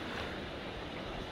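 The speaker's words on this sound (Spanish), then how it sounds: "Aquí tenemos la famosa cascada de Tamula." The Tamul waterfall in San Luis Potosí roars as a loud, continuous broadband rush of falling water, unbroken and alone with no speech.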